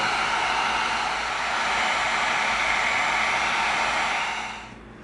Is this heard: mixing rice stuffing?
no